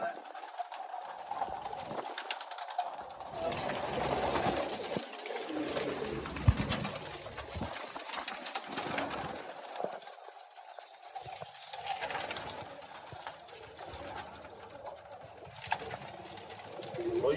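Many pigeons coo steadily and overlapping at a pet and pigeon market in Malerkotla, Punjab, a continuous murmuring bed of calls with occasional louder voices and bustle mixed in.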